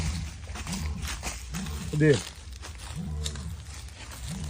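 A jaguar's roar played from a small portable speaker, a series of rough, grunting pulses repeating at intervals, one louder burst in the middle, with people talking throughout.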